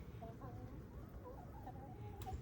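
Backyard hens in a garden chicken coop clucking softly and intermittently, a low continuous murmur of the flock with a few brief rising notes, no talk over it.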